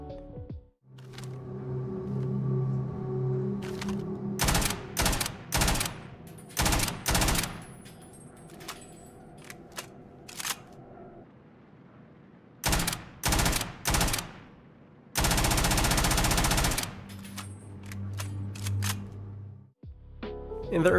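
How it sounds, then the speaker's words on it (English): Assault rifle fire in a Starfield weapon mod, a Call of Duty Online model replacing the Earth Assault Rifle: loud, close bursts of rapid shots in several separate volleys, one longer sustained burst, with quieter game sound between. "This model is from the game Call of Duty Online, and it replaces the old Earth Assault Rifle"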